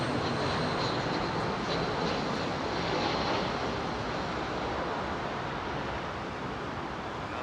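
A jet airliner lands on runway 27R at London Heathrow into a headwind, heard as a loud, steady broadband engine roar with wind rush, close and sustained throughout, no talking.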